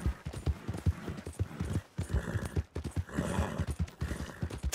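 Steady clip-clop of a small horse's hooves trotting at an even rhythm in Red Dead Redemption 2, fairly close, with no voices.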